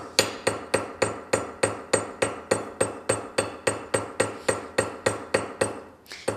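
A small hammer strikes a rivet while making jewelry at a studio bench: about twenty evenly spaced, sharp metallic taps in a steady rhythm, close and clear, with no talking.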